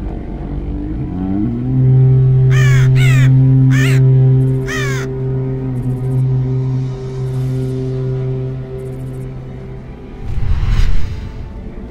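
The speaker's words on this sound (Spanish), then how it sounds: "Dejad que los cuervos de tormenta vuelen una vez más con los vientos de guerra." Storm crows from the WarCraft 3 video game caw in a quick series of harsh calls over a sustained low droning tone, followed later by a swelling rushing whoosh.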